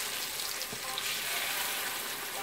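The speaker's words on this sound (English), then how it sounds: "So they fry for it on medium heat." Bean akara fritters fry in oil over medium heat, giving a steady, dense sizzle with fine crackle that holds level throughout, with no voices.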